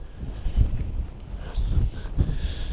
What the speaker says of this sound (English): you can hear me above the wind